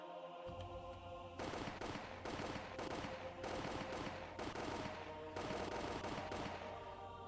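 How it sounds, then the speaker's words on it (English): Soldiers fire guns in the visual novel game Higurashi, with bursts of rapid automatic gunfire arriving in several rhythmic volleys over a steady low background drone and no talking. "The soldiers shot the people who tried to escape in the back. The sound of the gunshots echoed in the silence."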